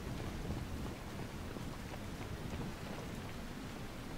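Steady game rain in Dragon Age Inquisition pours as a dense, even hiss with a low rumbling undertone, continuous and fairly quiet without any talk.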